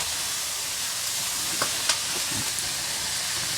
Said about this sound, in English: Saute onions and garlic